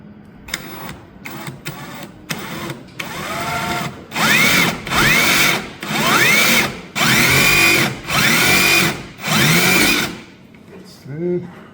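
A power drill bores through the gunnel of a Sea-Doo Fishpro jet ski in short bursts, then in five longer whining runs of roughly a second each, with someone talking briefly between them.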